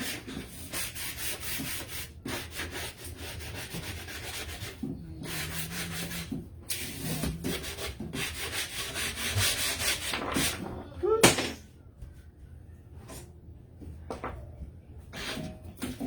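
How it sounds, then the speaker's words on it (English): Sandpaper rubbing over a painted wooden snowman sign to bring the black paint back through, in repeated short scratchy strokes with brief pauses between them, close up and fairly quiet. "I want some of that black to come back, so we're going to sand it."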